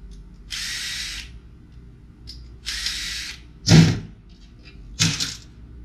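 A power drill unscrews screws from a scrap computer tower. Several short whirring bursts are separated by pauses, with a few sharper clicks and clacks of metal parts. The sounds are close and no one speaks.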